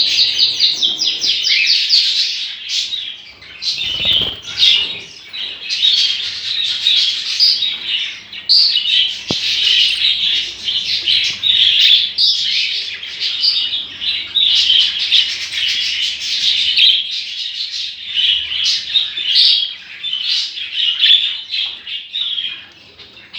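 Budgerigars in an aviary chirp and chatter continuously, many bright overlapping tweets and squawks close by, with a brief rustle partway through.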